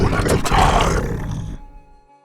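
Layered creature vocal sound design for the Venom symbiote: a loud, rough, roaring growl that swells, holds for about a second and a half, then trails off into a quiet tail.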